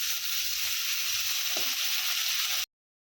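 Pieces of bhola fish fry in a small amount of oil for a mustard curry, giving a steady, even sizzle with one brief soft bump from the pan partway through before the sound cuts off.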